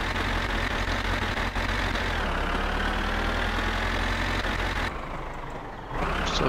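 A tractor engine in the video game My Summer Car drones steadily at close range, a continuous low idling rumble that shifts slightly in tone near the end, with no talk over it.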